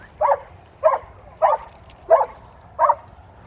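A dog gives five short, evenly spaced barks with sharp yipping edges over a quiet background. The barks are fairly close and clear.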